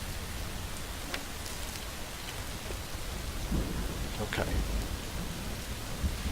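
Rain and thunder in the Skyrim video game, a continuous dense hiss of rainfall with low rolling thunder rumbles, and a brief spoken word partway through.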